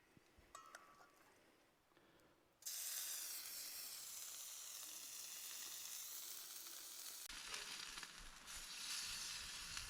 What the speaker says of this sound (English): You just want to sear the outside and seal it.